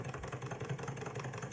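A small all-metal toy Stirling hot air engine runs with a soft, steady mechanical whir and faint rhythmic ticking, quiet and close, gradually winding down.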